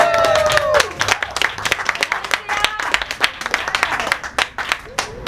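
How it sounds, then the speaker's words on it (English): Audience applause at an event on reproductive justice for Black women, a steady patter of clapping hands filling the room, with a loud cheer or whoop rising at the start over the crowd. "Let's give a round of applause, Ms. Gunder."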